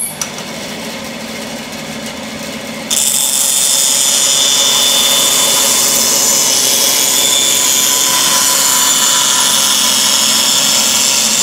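A bandsaw runs while cutting a wooden board for a hedgehog house. It starts with a quieter hum, then jumps to a loud, steady, high whine that holds until the end.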